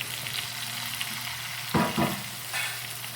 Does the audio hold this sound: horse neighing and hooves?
no